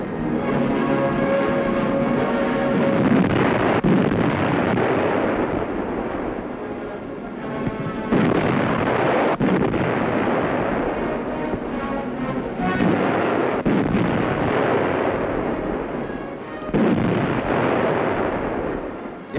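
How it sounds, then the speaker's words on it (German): Heavy battleship artillery fires in a naval engagement, heard as loud, sustained rumbling booms with repeated surges of blast noise across the whole span, dense and continuous rather than cleanly separated shots. "Schwere Artillerie gefechtsbereit."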